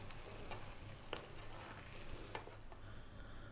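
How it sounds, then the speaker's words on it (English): A spoon mixes mushroom potato curry in a pan just off the heat, giving a soft steady sizzle with a few light scrapes and clinks up close. "We're going to give that a mix"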